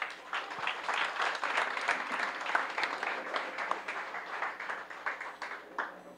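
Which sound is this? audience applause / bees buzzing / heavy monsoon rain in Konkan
audience applause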